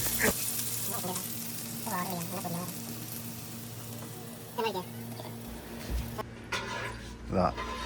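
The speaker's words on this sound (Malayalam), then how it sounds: "നെയ്യുണ്ട് അണ്ടി മുന്തിരിയൊക്കെ ഒന്ന് വറുത്തെടുക്കാൻ" Cashews and raisins fry in ghee with a soft, continuous sizzle and occasional stirring, heard faintly beneath ongoing speech.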